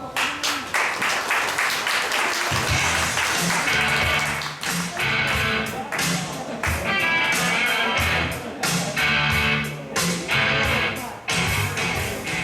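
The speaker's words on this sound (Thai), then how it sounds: "ขอเสียงปรบมือท่านต้อนรับท่านสุรินจันทร์ชลอครับ" Applause from the audience at a formal MOU signing ceremony welcoming a company CEO as a speaker: steady, dense clapping that fills the room for the full stretch, with low murmuring underneath.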